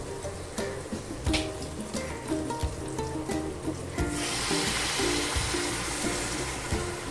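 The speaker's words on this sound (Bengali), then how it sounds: "এবার এতে আমি জল দিয়ে দেবো, গরম জল সামান্য পরিমাণ" A small amount of hot water poured into fried masala for paneer tikka masala sets off a loud, sustained hiss and sizzle that swells partway through and carries on steadily to the end.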